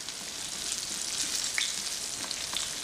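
Fish fries in hot oil with a dense, continuous crackling sizzle, close and fairly loud, with scattered brighter pops.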